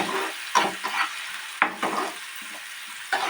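Spices with turmeric sauté in a pan, giving a close, continuous sizzle broken by repeated scraping stirs roughly every half second to a second, with no speech.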